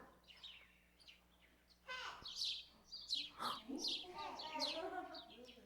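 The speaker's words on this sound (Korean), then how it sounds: "바로 새소리예요." Recorded birdsong plays for a children's listening quiz, several bright chirps and short trilling calls in bursts that grow louder and busier in the second half, with a faint voice underneath.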